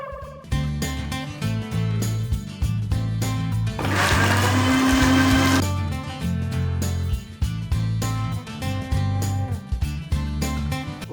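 A mixer grinder blends fruit for mixed fruit jam, its loud motor whirring steadily under rhythmic music, with a sharper high-pitched grinding burst in the middle.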